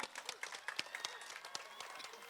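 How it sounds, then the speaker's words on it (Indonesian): Audience applause at a university ceremony in Surabaya, a 10 November commemoration, as a crowd claps steadily with scattered sharper claps and faint murmuring, moderately close. "Tepuk tangan untuk kita semua."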